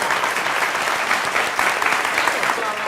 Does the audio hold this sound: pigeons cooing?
no